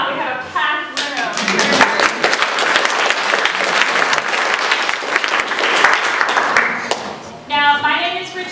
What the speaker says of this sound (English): I'm going to ask you to give yourselves a round of applause.